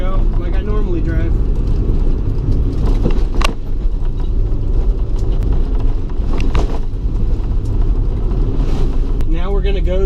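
A 1990 Honda Civic DX is driven over a rough road, with loud, constant road and engine rumble, bumps and the shifter rattling throughout, close and unbroken.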